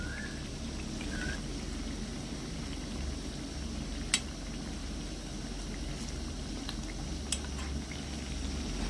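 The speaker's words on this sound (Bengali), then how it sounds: "গ্যাসের আঁচটা মিডিয়াম থেকে লো আছে মাঝামাঝি রেখে উল্টে পাল্টে একটু লালচে করে ভেজে নিতে হবে" Spiced masala kachori deep-fry in oil over a medium-low gas flame, giving a quiet, even bubbling hiss throughout. Two faint clinks stand out briefly, and no one talks.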